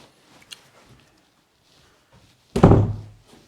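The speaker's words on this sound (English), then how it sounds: "if I just close this door" An interior door in a three-bed end-terrace house swings shut with a single solid thud near the end, after a stretch of quiet room tone with faint handling noises.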